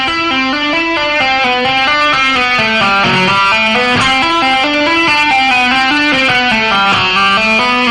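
An electric guitar lick played slowly on a distorted tone: one picked C, then hammer-ons, pull-offs and first-finger slides, the notes stepping evenly and loud throughout with no voice over them.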